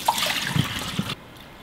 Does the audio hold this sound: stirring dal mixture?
no